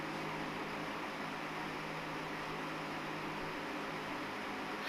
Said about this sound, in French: si vous entendez un bruit de ventilo, c'est parce qu'il fait chaud